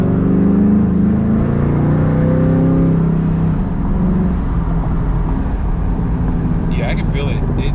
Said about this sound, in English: But what Anthony did is he's got a 410 gear in this thing. And it already feels stronger than our car down low.